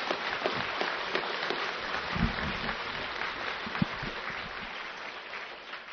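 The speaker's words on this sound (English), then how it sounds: "If you're going to clap, clap with everything you've got." An audience at an evening talk claps together in a dense, sustained round of applause that keeps an even level and then fades slightly at the end.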